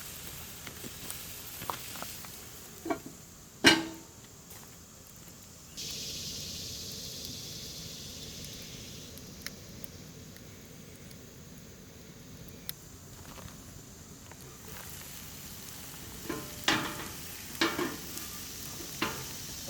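Tomatoes, including orange Mr. Stripey tomatoes, simmer under the lid of a Dutch oven with a steady low hiss and faint bubbling. Occasional soft knocks and clinks of the pot sound close by, with no voices.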